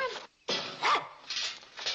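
A dog barks a few times indoors in a sitcom scene, short sharp yips and whining barks separated by brief pauses, close and fairly loud.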